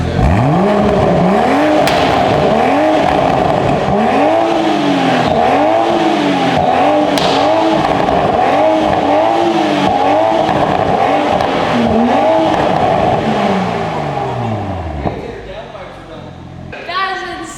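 Toyota A90 Supra with a Ghost Tuning titanium valved exhaust, revved repeatedly in loud rising and falling sweeps before settling, with brief talk at the end.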